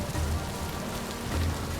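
Steady rain falling in the block-built survival game Vintage Story, a continuous broadband patter on surfaces with no voices, even and unbroken throughout.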